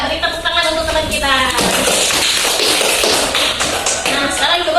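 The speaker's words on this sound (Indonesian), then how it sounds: "Coba beri tepuk tangan untuk teman kita." Grade 5 schoolchildren in a science class applaud a classmate: a teacher's voice comes first, then a burst of dense, scattered hand clapping fills the room.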